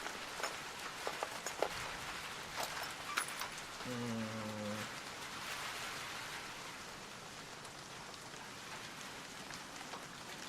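Steady rain falls in the video game Arc Raiders, a soft, even hiss that fills the whole stretch, with a few faint clicks early on and a brief tonal blip midway.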